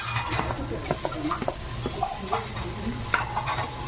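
Onion and tomato sauté in a hot pan for Marathi pea rice, giving a steady, close sizzle broken by repeated scraping and clinking of a spoon stirring against the pan.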